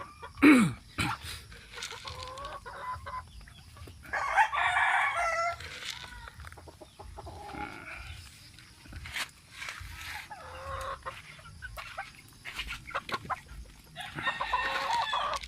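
Pet chickens and a rooster at a morning feeding in the Philippines: a rooster crows several times amid clucking hens, fairly close, with scattered rustling and faint background noise.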